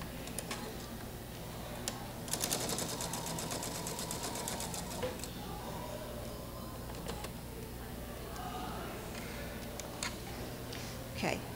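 A sewing machine stitches quilt pieces together, its rapid ticking run rising near the start and continuing in steady bursts, close and clear, with no voice over it.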